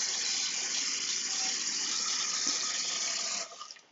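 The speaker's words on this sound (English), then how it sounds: "we're just gonna put some water in the pan" Water runs steadily into the pan of an Old Country BBQ Pits Toro Pro smoker, a continuous close hissing pour that cuts off near the end, leaving a few faint clinks.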